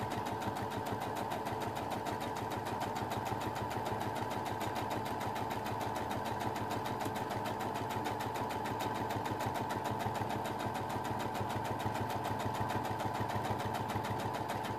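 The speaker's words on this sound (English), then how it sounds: "I'm just going to stitch with a 1/4 inch seam allowance all the way round my circle, taking the pins out as I go" A sewing machine runs a steady, continuous stitch for a quarter-inch seam around a fabric circle, an even rapid mechanical patter, close and moderately quiet, alone without talk.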